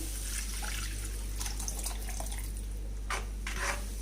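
Tamarind juice poured into a pan of egg masala gravy, a soft close trickle and splash of liquid over a steady low background hum, with a couple of brighter splashes near the end.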